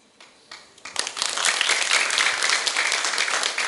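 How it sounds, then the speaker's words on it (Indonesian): Audience applause after a child's poem recital at an Indonesian elementary school storytelling event, starting with a few scattered claps and quickly swelling into steady, dense clapping from a room full of listeners. "Sekali lagi tepuk tangan."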